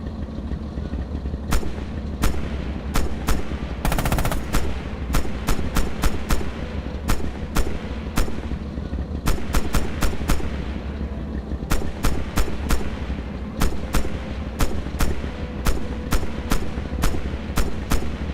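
Repeated single-shot gunfire from a tank's gun in the Red Orchestra 2 video game tank training, about two dozen sharp loud reports in an irregular rhythm over a constant low engine rumble, with no speech.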